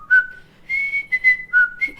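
A person whistles a theme song in imitation of a bird: clear, close, melodic phrases in several short bursts separated by brief pauses.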